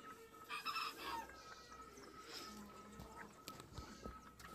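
Several Aseel chickens cluck and call in a yard, with an Aseel rooster among them, steady low farmyard chatter close by.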